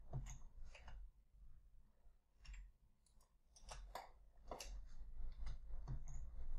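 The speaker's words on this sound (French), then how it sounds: "vous entendez certainement mon clavier et mes clics" Keys tapping and mouse buttons clicking at a computer, close and quiet, in an irregular run of sharp ticks over a low background hum.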